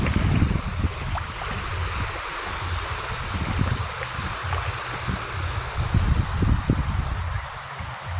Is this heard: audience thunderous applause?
no